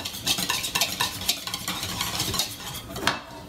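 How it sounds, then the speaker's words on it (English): Egg yolks whisked briskly in a bowl, a fast, continuous rhythmic clatter and scraping of the whisk against the sides, close and fairly loud with no talking. "you want to just whisk those until they're all blended"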